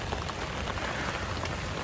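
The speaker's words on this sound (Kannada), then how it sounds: "ಮಳೆ ಗೈಸ್ ಮಳೆ ಗೈಸ್" Heavy rain pours down steadily, a dense continuous hiss of drops hammering a surface, loud and close with no voices.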